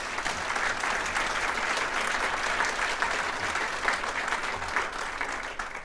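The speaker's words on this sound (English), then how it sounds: "So we should give her a big round of applause." An audience at Ted Lieu's state of the region event gives a woman a round of applause. The steady, fairly soft clapping carries evenly for about six seconds, with no voices over it.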